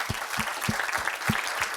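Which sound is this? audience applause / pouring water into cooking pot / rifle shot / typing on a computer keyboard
audience applause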